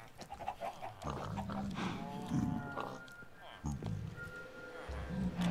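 Cows lowing in the video game Minecraft, several drawn-out moos at close range, mixed with a voice speaking over them.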